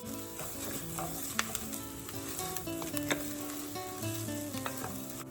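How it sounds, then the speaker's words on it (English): Rice and onions toast in a pan for Mexican red rice, sizzling steadily as a spoon stirs them, with scattered scrapes and light ticks against the pan. "that rice is toasting up and changing color"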